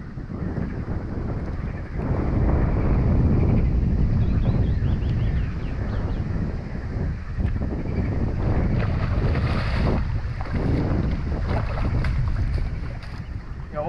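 Strong, steady wind roars and buffets the microphone throughout, with a low rumbling rush and some water or boat noise underneath, while carp fishing in May.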